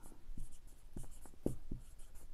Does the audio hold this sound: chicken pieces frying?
no